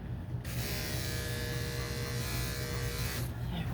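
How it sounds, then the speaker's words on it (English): An electric shaver buzzes continuously as it clips the fur on a dog's neck, a close, steady electric drone starting and stopping sharply over a few seconds. "So I'm going to actually neck it out with the shaver."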